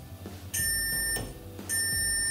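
A multimeter beeps while testing output transistors in a Kenwood hi-fi amplifier: two sharp, high continuity tones, each held for about half a second, with faint handling noise between them.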